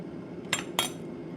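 Two quick metallic clinks of a spoon against a bowl as mayonnaise is mixed into tuna for a tuna melt, close and crisp over a quiet background.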